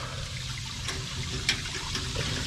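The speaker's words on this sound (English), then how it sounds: "We've got it hooked up where the cold water, well, coldish water, is running through the coils." Cold tap water rushes steadily through the coils of a wort chiller during an all-grain pale ale brew, a continuous close hiss and gurgle of flowing water with a few small splashes and no talking.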